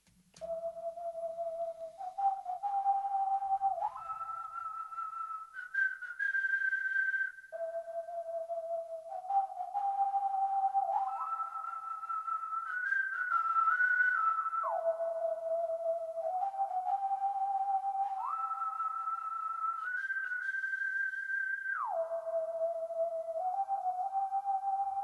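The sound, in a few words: whistle melody turning into flute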